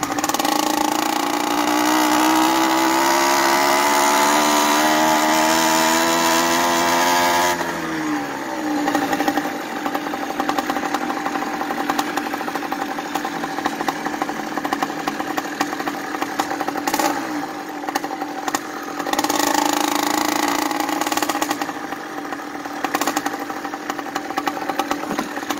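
Small engine with a 49mm iron sleeve, converted to run on pure ethanol and not yet warmed up, running loud and close with a steady drone, a falling rev early on and uneven revving after.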